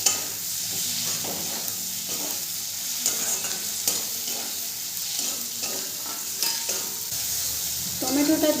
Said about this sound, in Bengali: টমেটোটা দিয়েও ভালো করে মিশিয়ে নেব।